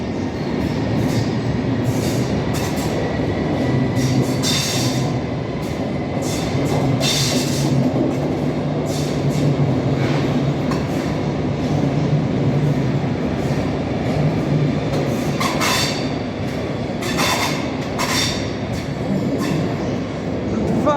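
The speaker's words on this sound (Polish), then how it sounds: "Dwa w jednym składzie pendolino." A double Pendolino trainset moves through Warszawa Centralna station, a steady loud rumble of wheels and motors filling the underground platform, with hiss and occasional metallic squeals and clicks throughout.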